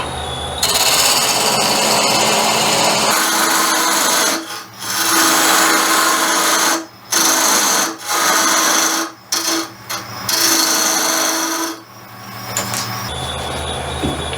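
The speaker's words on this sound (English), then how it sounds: "we're going to cut a dovetailed tenon on both sides to start our box." A box threading jig cutting a dovetailed tenon in wood, loud close rasping machine cutting in long bursts broken by several short pauses, then running quieter toward the end, no talk.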